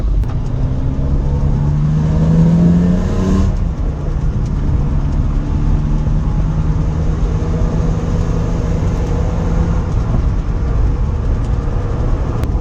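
Worn tires on a BMW E30 rub against the fender while driving, a rapid repetitive scraping buried in loud, steady road and engine drone, with a brief rising tone early on.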